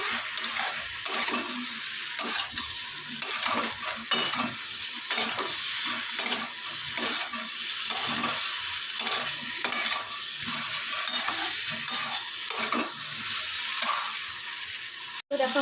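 Fish roe being sautéed in spice masala in a pan, a continuous frying sizzle with rhythmic stirring scrapes recurring roughly every second, close and steady, ending in a sudden clatter.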